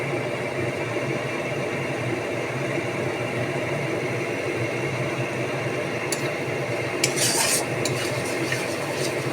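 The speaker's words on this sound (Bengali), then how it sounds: "মশলাটাকে একদম খুব ভালোভাবে কষাবো অনেক সময় বসে।" Spice masala with turmeric sautéing in a pan for kabuli chana with mutton keema, heard as a continuous dense sizzle with soft stirring, then a few clinks of utensil against the pan near the end.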